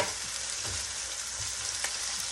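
Bacon stir-fried in a pan gives a steady, close hissing sizzle with faint scraping stir sounds, no voices.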